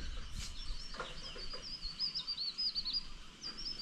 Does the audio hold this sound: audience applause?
no